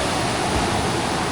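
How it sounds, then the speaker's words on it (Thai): Rising flood water rushes through a rain-swollen stream, a steady, dense roar that fills the whole moment without pause or voices. "น้ำเริ่มใหญ่แล้วเนาะ"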